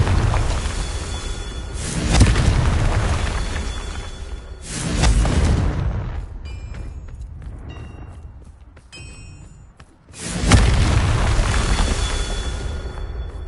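Blasts from the Confringo blasting spell erupt three times, each a loud, booming burst with a rushing tail, separated by quieter stretches with faint tinkling and scattered footsteps.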